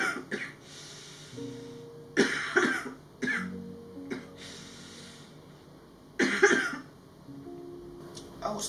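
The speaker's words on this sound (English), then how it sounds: "My cough was not normal." Harsh, chesty coughing from someone unwell with an abnormal cough, in several loud bursts separated by pauses and breaths, close to the microphone, with one brief spoken word.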